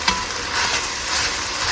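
Seasoned meat sauce sizzling and frying in a pan on the stove, a loud, steady crackle with some stirring, close up and without talk.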